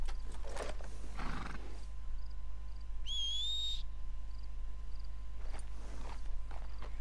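A wild American Paint horse in Red Dead Redemption 2 gives a short rising neigh amid soft hoof clip-clops and steady outdoor game ambience, with no talk.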